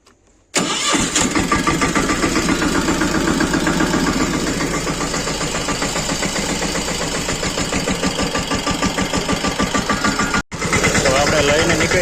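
A tractor engine cranks and catches, then settles into a loud, close, rhythmic diesel idle with a steady chugging knock, briefly cutting out near the end before resuming.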